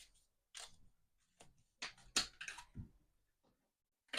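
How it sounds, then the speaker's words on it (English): Playing cards are shuffled by hand in a quiet room, making a few short, faint bursts of riffling and flicking separated by pauses. "Let's just shuffle them up a bit."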